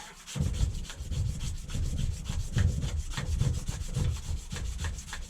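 A polished BMW wheel sanded by hand with sandpaper on a rubber block, a steady close rasping rub with rhythmic back-and-forth strokes, loud and continuous without voices.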